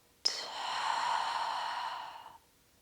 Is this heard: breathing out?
yes